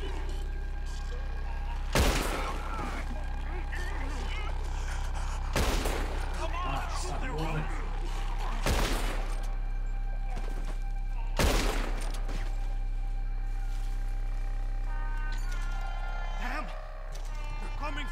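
Gunfire in the video game Red Dead Redemption 2, several loud isolated gunshots spaced a few seconds apart over a steady game soundscape, with characters shouting and talking throughout.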